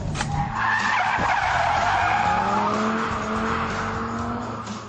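Tires squeal in a sustained skid as a car is thrown into a handbrake drift on a track, loud and close with a steady screech and engine drone underneath.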